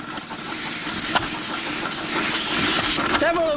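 An air compressor lets out compressed air in a strong, steady hiss that lasts the whole moment, broad and close, with a brief rising whine near the end.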